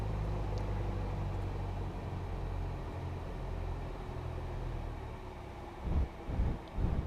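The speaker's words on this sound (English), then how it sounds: "Now we'll start throttling back." Aircraft engine in the Aerofly FS2 flight simulator, flying VFR around San Francisco, throttling back: a steady low drone with broadband airflow rush that holds fairly even, followed by a few louder low thumps near the end.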